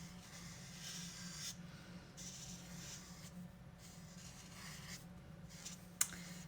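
Strokes of a drawing tool on paper, soft scratchy swishes coming in several separate passes, faint and close over a low hum, ending with a small tap.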